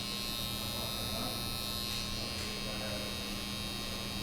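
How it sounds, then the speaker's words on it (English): An electric hair trimmer buzzes steadily and close by as it cuts hair and beard in a men's Viking haircut, a constant even drone with no breaks. "I'm only using about not even half the trimmer right now"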